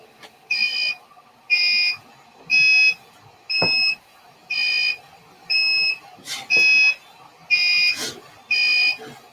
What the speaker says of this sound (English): That's the test code running where it's generating the different tones.